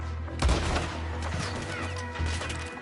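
A burst of gunfire in Red Dead Redemption 2 at Clemens Point, a couple of sharp nearby shots over a busy combat backdrop with no talk.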